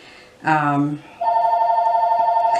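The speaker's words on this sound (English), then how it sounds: "gotta excuse the telephone ringing" A house phone rings indoors, a loud electronic tone coming in after a brief burst of another sound, then holding steady and near.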